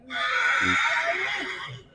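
A horse neighs at a crowded Maghi horse fair in Punjab, a loud, drawn-out whinny lasting nearly two seconds with a few low snorts beneath it.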